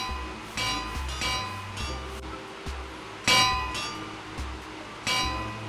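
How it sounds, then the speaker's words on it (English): Anvils placed one after another in a blocky Minecraft-style Roblox game, heard as a series of bright metallic clangs, loud and close, roughly every second over a low background. "Now take an anvil and tower it up."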